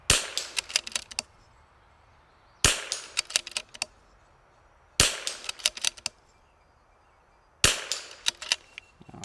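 An MCR MOD X rimfire rifle fires four sharp, evenly spaced shots outdoors, each crack followed by a brief ringing echo and a scatter of small ticks, with no talking.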